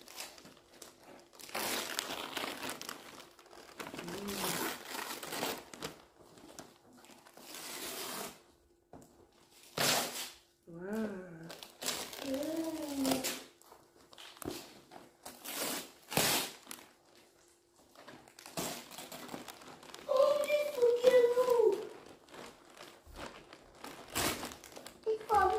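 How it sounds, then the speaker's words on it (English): Christmas presents being unwrapped at home, with bursts of crinkling and tearing wrapping paper broken by pauses, while children and adults talk and exclaim throughout. "Princess, let's unwrap yours together"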